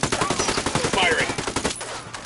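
Gunfire in the video game Ghost Recon Wildlands, a steady stream of rapid shots running close and loud for about two seconds, then thinning out, with voices partly under it.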